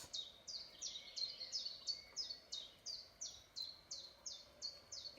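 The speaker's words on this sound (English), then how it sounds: "I don't know if you can hear the sounds of all these birds" A bird on a TV video for dogs repeats a short, bright chirping call about twice a second, evenly spaced and faint, with a quiet background hum.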